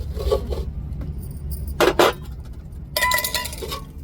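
A few metallic clinks and clanks as a lid is placed on a cooking pot of potatoes, short separate knocks with quiet gaps between, close by.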